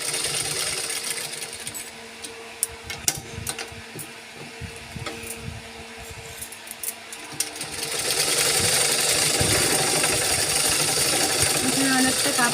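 Sewing machine stitching cloth for a handmade bag, a steady mechanical whir running throughout with faint clatter, growing louder and denser in the last few seconds.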